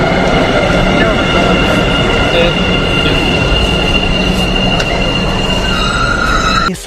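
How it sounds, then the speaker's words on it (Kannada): A metro train pulls into a station platform with a loud, steady rolling rumble and faint wheel squeal that holds close and constant throughout. "metro is coming guys"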